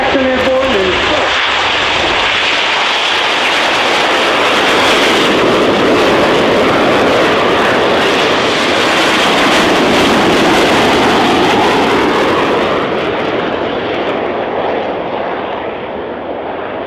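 An aircraft taking off at the RIAT air show, a loud, sustained jet roar close by, swelling through the middle and easing slightly toward the end.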